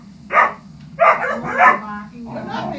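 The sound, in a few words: puppies barking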